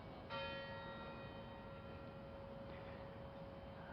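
A clock tower bell strikes once with a clear ringing tone that hangs and slowly fades, heard faint and at a distance with no talk.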